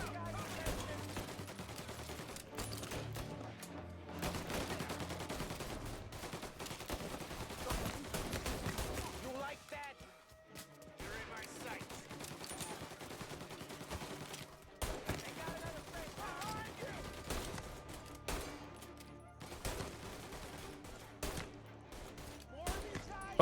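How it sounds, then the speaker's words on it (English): Video game gunfire, with fairly quiet bursts of rapid shots and scattered single cracks running under a background soundtrack, pausing briefly midway. "Oh god, you're already shooting at me?"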